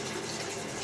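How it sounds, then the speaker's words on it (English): Tap water runs over fingers as shaving soap is rinsed off, a brief, steady, soft splashing flow close by with no talk. "Feels nice and slick as I'm rinsing the soap off my fingers."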